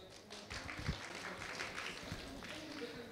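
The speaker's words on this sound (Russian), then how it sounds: "Ольга Красильникова, ваши аплодисменты." Audience applause at an indoor business career talk, a soft steady patter of clapping from a crowd, faint and distant, with a few louder individual claps.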